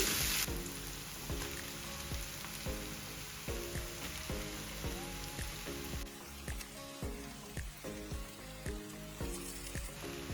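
Soya meat tipped into sautéed onions in a pan, a continuous quiet sizzle with repeated light rhythmic tapping and stirring clicks throughout, no talk.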